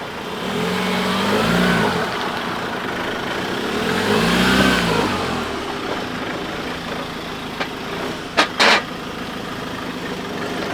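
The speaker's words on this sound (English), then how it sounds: "get the two cars through this broken area" Two overlanding vehicles churn through broken clay ground in rainy-season East Timor, engines revving up and easing off in two surging waves, followed by a few sharp knocks near the end.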